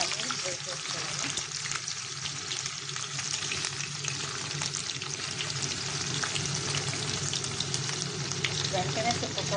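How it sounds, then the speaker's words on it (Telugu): Paneer cubes frying in hot oil in a kadai, giving a steady, close sizzle and crackle throughout with faint clinks of stirring and no talk. "కొంచెం వేసి పన్నీర్ ఫ్రై చేసుకోవాలి."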